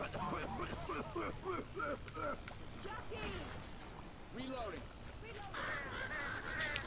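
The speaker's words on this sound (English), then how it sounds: "did you hear the crows?" Crows caw repeatedly in a Left 4 Dead 2 GoldenEye mod, a run of harsh overlapping calls over a low background, with a brief higher cluster near the end.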